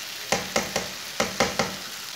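Okra sizzles in a hot pan, with a steady frying hiss broken by six sharp, rhythmic stirring scrapes of a spoon against the pan, close and moderately loud.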